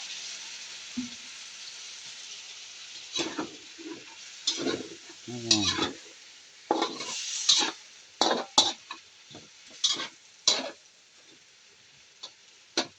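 Chicken afritada frying in a pan with a splash of soy sauce, stirred with a utensil that clicks and scrapes against the pan in irregular bursts over a steady close sizzle, with no talking.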